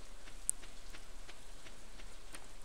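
Steady rain falls in the farming game Stardew Valley, a soft continuous hiss of drops with faint patter spikes throughout, alone with no voices.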